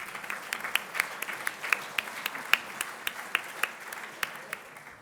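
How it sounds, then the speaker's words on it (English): A Rotary club meeting audience in Atlanta applauds itself, sustained clapping from a sizable room, fairly soft and even with scattered louder individual claps punctuating the wash throughout. "Please give yourselves a round of applause"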